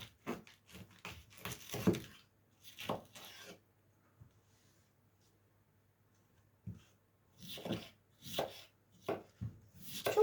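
A knife chops purple cabbage on a cutting board in quick rhythmic bursts of close, crisp thuds, separated by a quiet pause before the chopping resumes.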